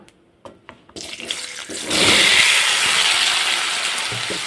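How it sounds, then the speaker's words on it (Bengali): Cut elephant foot yam hits oil left from frying rohu fish, a few small clicks giving way to a loud, sustained hissing sizzle that stays strong to the end. "এবার ওই মাছ ভাজা তেলের মধ্যে দিয়ে দেবো কেটে রাখা ওলগুলো"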